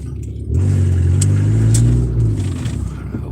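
A car engine starts rumbling about half a second in, then revs loudly and close up with a deep, rising and falling growl. It settles slightly toward the end, and no speech is heard.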